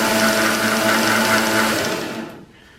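A Harbor Freight 1x30 belt sander runs with a steady motor whine and a slight roughness, loud and continuous, then spins down near the end.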